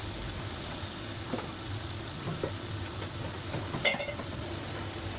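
Chopped potatoes fry in hot oil with salt and turmeric on low heat for a cabbage dish, a steady close sizzle with occasional scraping stirs and light clinks over a constant hiss.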